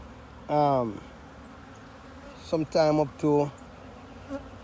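Close honey bees buzzing in several loud bursts, a long drone followed by three shorter passes, with quiet gaps between.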